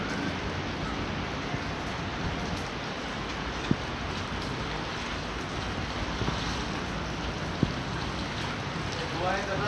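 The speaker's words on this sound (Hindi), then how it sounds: "इतनी तेज बारिश आ रही है, आपको नजर आ रहा होगा फुल बारिश हो रही है फुल" Heavy rain pours down in Mirpurkhas after a heatwave, a dense, continuous roar of rain striking surfaces with a few sharp drips and knocks standing out, loud and close throughout.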